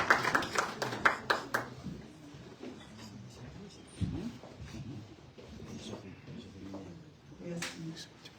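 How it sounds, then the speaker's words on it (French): At a welcome evening for newly arrived Haitian immigrants in Canada, an audience gives a brief round of scattered hand claps lasting under two seconds, followed by someone speaking over a quieter room. "Sous vos applaudissements, s'il vous plaît."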